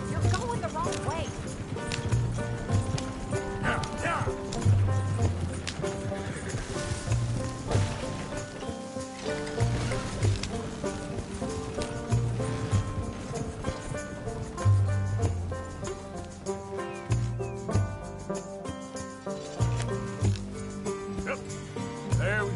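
Horse hooves clip-clop steadily in a rhythmic trot while riding in the Red Dead video game, set against dense game music, with someone talking over it.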